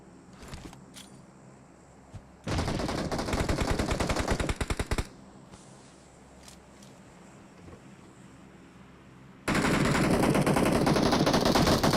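Rapid automatic gunfire in the PUBG Mobile battle royale game, a dense burst of shots for a couple of seconds, then quieter game ambience, then another sustained loud volley at the end.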